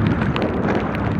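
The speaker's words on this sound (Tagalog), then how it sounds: "Doon ang napakalakas ang hangin." Strong wind roars and buffets the microphone in a constant, loud rumble with no other sounds.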